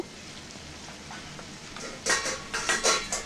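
A metal lid goes onto a cooking pot of pumpkin, papaya and raw chickpea curry, a few close clattering clanks with a bright metallic ring after a quiet stretch of faint kitchen background.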